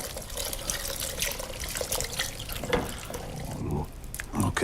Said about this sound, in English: I think we need to put some water in as well.